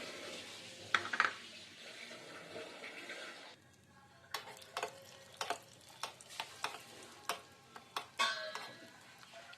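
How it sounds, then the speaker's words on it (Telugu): Cashew nut pieces frying in a spoonful of ghee for sweet pongal, with a steady sizzle at first, then a run of sharp clicks and taps as the nuts are stirred in the pan. "జీడిపప్పుల్ని ఇలా వేయించుకొని"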